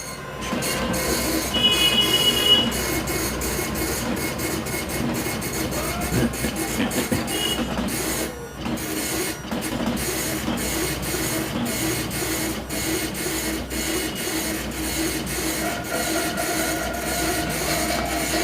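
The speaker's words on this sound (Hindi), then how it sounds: "प्रिंटिंग प्रोसेस चालू हो गया है।" An Epson PLQ passbook printer runs a test page with a steady, continuous mechanical rattle and whir, close and loud, its dense clicking carrying without pause.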